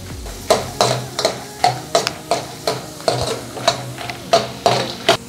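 Chana dal and urad dal tossed in hot oil with peanuts for avakai pulihora, a soft sizzle under repeated sharp clinks and scrapes of a spoon stirring against the pan in an irregular rhythm.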